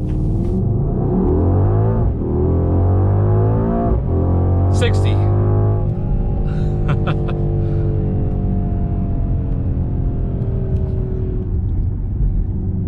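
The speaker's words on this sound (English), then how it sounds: "Yeah, I'd say this thing's got good acceleration." A 2021 Mercedes-AMG GLE 63 S launches from a standstill in sport plus mode, its engine roaring loud and close as the pitch climbs steadily through the gears from the cabin, with a brief voice partway through.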